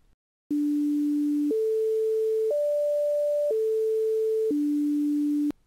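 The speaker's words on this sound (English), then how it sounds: "we get a clear output signal with no distortion components, just added broadband noise" Steady pure tones stepping up and back down in pitch, each held about a second, over a faint constant hiss of broadband noise.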